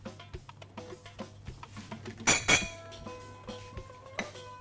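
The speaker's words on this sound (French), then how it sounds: "On essaie de bien racler les parois pour vérifier que tous les ingrédients" A spatula scrapes around the sides of a bowl of yogurt chocolate cake batter, making light clinks and taps against the bowl at an uneven rhythm, with one louder scraping swipe partway through and no speech.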